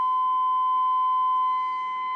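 A steady, pure sine-wave tone plays through a Hallicrafters S-40B radio, a constant clean beep with faint harmonics that holds evenly for about two seconds before dipping slightly in level.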